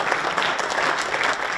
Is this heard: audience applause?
yes